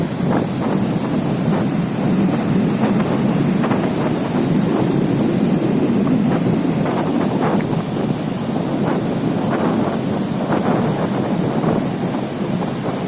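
Sea waves wash up on the beach at Digha, a steady roaring surf with repeated breaking swells under heavy wind buffeting the microphone, loud and continuous throughout.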